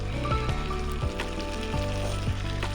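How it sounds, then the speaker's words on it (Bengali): Potatoes and other vegetables frying in a pan with chili flakes, a close, continuous low sizzle with a few soft knocks and shifts, no voices. "আরও প্রায় পনেরো থেকে কুড়ি মিনিট এটাকে ভাজতে থাকবো যতক্ষণ না সিদ্ধ হয়"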